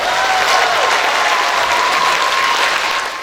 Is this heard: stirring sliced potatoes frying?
no